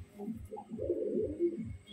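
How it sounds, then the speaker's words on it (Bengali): A female pigeon coos close by, a run of soft, low, rolling coos repeated over about two seconds, with faint background noise and no other voices. "এটা মাদি পায়রা"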